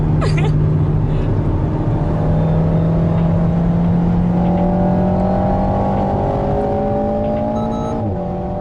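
An Alpine A110 drives away from the Clastres circuit, its engine droning steadily and rising in pitch as it accelerates from inside the cabin, loud and continuous with a gear change near the end.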